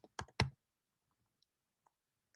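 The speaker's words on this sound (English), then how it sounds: "I hate this keyboard." Several sharp keystroke clicks on a computer keyboard come in a quick close burst at the start, then a few faint isolated taps follow amid near silence.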